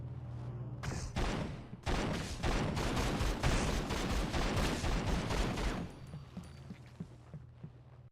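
Gunfire in the PS2 horror video game Run Like Hell: a dense run of rapid, loud shots in quick succession for several seconds, followed by quieter scattered clicks.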